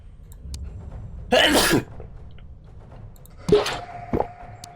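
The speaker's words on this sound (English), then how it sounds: "I don't know why I'm sneezing." Two sharp sneezes a couple of seconds apart, loud and close, each a sudden burst; quiet room noise between them.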